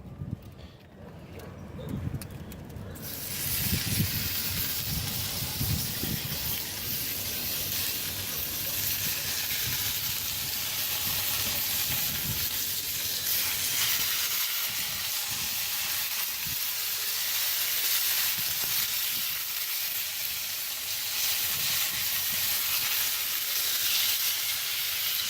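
Bacon sizzles on a black iron grill outdoors with a steady, dense hiss. The sound holds level and loud throughout, with some low knocking early on.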